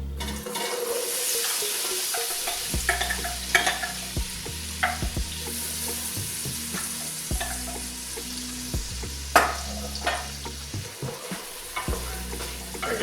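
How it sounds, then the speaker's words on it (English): Chopped onion and celery sauté in melted butter in a hot pan, a steady close sizzle broken by repeated scrapes and knocks of stirring, with no talking. "we're going to throw in a cup of onion and a cup of celery."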